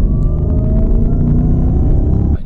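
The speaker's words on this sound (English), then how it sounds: "If you tip in slightly to the throttle, you hear that supercharger whine." Supercharged engine of a 2020 Jeep Grand Cherokee Trackhawk under light throttle, a loud, close, steady low rumble with a faint high whine riding over it, ending abruptly.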